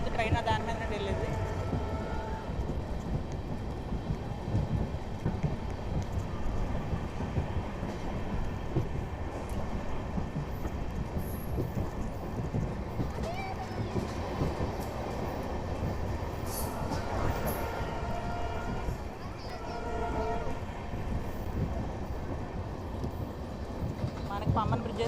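The Rameswaram to Tambaram Express crosses the new Pamban bridge with a steady, continuous rumble and clatter of wheels on rails heard from on board, with occasional higher squeals and voices talking over the noise.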